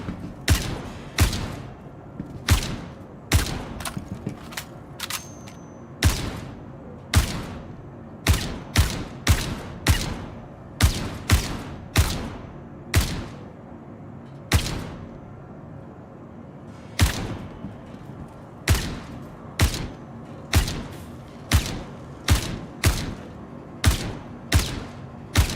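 Repeated gunfire in the space game Star Citizen, sharp individual shots landing in irregular bursts and single cracks across the whole stretch, loud and close with no talking.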